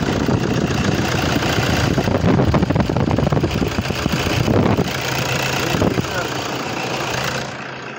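A used Toyota Innova's engine runs steadily at close range, a loud continuous rumble that eases slightly near the end, with no one talking over it.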